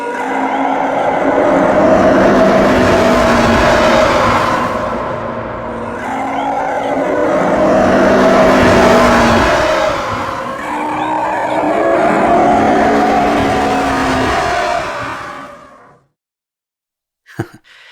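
Recreated TIE Fighter spaceship roar, pitched slightly up and panned around, sweeps past as three loud swelling screaming whooshes, then cuts to silence and a brief click.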